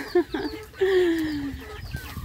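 Chickens kept as backyard pets cluck close by in a short burst, with one longer drawn-out call sliding downward, amid light outdoor background noise.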